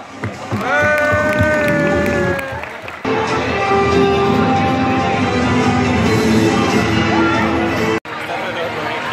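A crowd at a Winter Freak 2019 showcooking session in Murcia breaks into sustained applause and cheering after a brief tonal voice or music passage, with chatter mixed in and a short break near the end.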